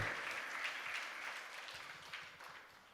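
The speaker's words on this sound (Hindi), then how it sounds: "ताली भी बज रही है।" Audience applause at a political rally in Uttar Pradesh, a dense continuous patter of clapping from a crowd that fades slightly toward the end.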